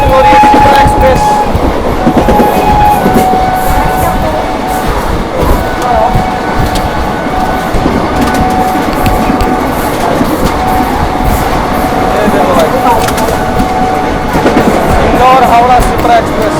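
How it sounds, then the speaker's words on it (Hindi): Sheikpura–Anand Vihar special train 03697 passing the Indore–Howrah Shipra Express near Chunar, a steady loud rumble of wheels and carriages with a sustained horn tone running through, continuous throughout. "लगातार हॉकिंग के साथ स्किप करने वाले हैं चुनार। क्रॉसिंग हो रही है शिप्रा एक्सप्रेस।"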